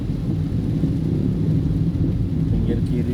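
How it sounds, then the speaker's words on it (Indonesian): Rain and a thunderstorm at Merak ferry port, heard from inside a vehicle leaving the KMP Legundi ferry, as a continuous low rumble with steady rain noise throughout. "Gerimis kayak ini repot sih memang."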